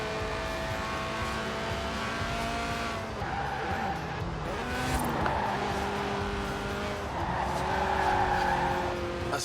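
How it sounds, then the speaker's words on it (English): A Lotus Elise Sport 190, a light 1.8-litre roadster, slides through a corner in Forza Horizon 4, its tyres squealing in long wavering tones over a steady engine drone for several seconds. "A serious slide there."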